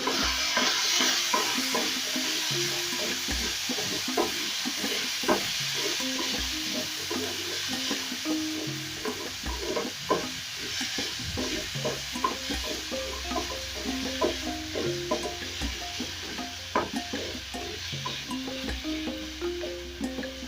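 Pork sizzles steadily in a pan with capsicum, tomatoes and onions while a utensil stirs and scrapes through it in repeated strokes, the frying loud and close throughout with no talk.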